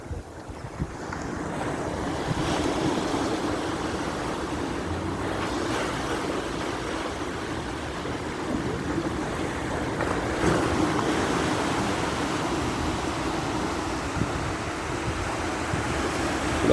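Sea waves washing onto Mbatal beach at Mbao, a continuous broad roar of surf mixed with gusty wind buffeting the microphone, steady and fairly loud with no voices.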